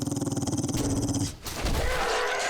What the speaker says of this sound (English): We know there are dogs in here